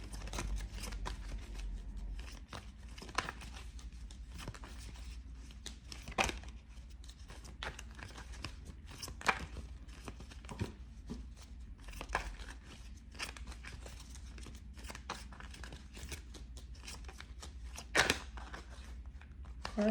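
Tarot cards are shuffled continuously up close, a steady papery riffle and flutter with scattered sharper snaps over a low background hum.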